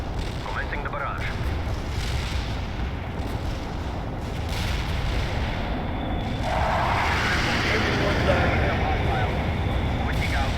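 An artillery barrage in the video game World in Conflict: Soviet Assault, heavy low rumbling booms rolling continuously through a snowy battlefield soundscape, with radio voices speaking over it.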